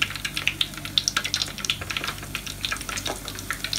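Coconut-banana dumplings frying in hot oil, a close, busy sizzle full of rapid crackles and pops that rise and fall steadily, with no talking.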